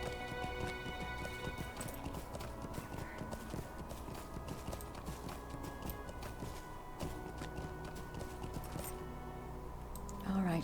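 Horse hooves clip-clop steadily throughout in the Lord of the Rings Online video game, a continuous galloping rhythm layered over game music and ambient sound, with a louder burst at the very end.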